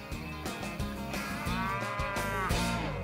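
Cattle on a dairy farm moo in several overlapping, drawn-out calls, loud and fairly close, filling the whole stretch with rising and falling lowing and no talk.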